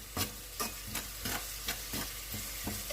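Garlic and onions fry in a pan with a steady sizzle, broken by about eight regular scraping stirs from a utensil, close and moderately loud.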